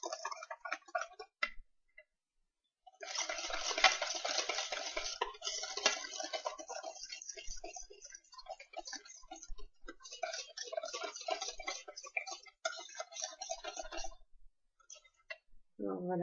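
Spoon stirring cane sugar in a bowl to dissolve it for an eggless tiramisu: rapid, close clinking and scraping ticks run in bursts, with short pauses between them.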